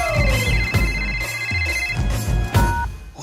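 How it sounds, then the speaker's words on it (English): A telephone rings in a comedy scene, a few repeated electronic ring bursts over steady background music, close and fairly loud with no talking. "Let's call her. It's ringing."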